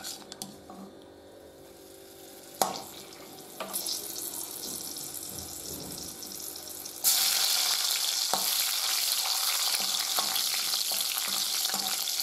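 Cashews and raisins frying in hot ghee for a Thalassery-style semolina chicken biryani, a soft steady sizzle with occasional stirring clinks that turns louder and denser partway through and keeps hissing to the end.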